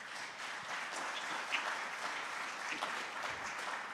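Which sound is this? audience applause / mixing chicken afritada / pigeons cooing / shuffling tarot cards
audience applause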